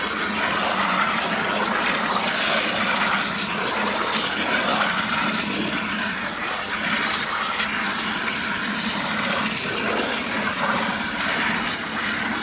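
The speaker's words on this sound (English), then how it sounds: "So in a minute I'll just pour some of that water away gently." Water is poured away gently from a settling container of crushed IC chips during gold recovery, a continuous, even splashing wash that runs steadily throughout without pause.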